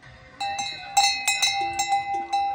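Old animal bells, about thirty years old and still working, ring out close and bright in a quick series of irregular metallic clanks with lingering tones, and no talk over them.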